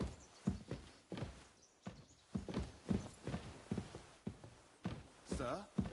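Horse hooves clop in an even walking rhythm on hard ground in the medieval game Kingdom Come Deliverance 2, each strike crisp and close, repeating steadily.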